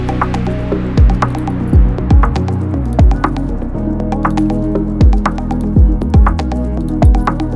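Torque wrench tightening bolts on a Toyota 2AZ-FE engine being built for a turbo, set to 40 inch-pounds. Close, loud ratcheting clicks come in repeated bursts with pauses, and metallic knocks fall between them.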